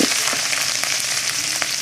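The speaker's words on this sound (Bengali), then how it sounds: "ভালো করে কষিয়ে নেব।" Spices with chilli powder sizzle in a hot pan, a dense continuous hiss with small pops and crackles throughout.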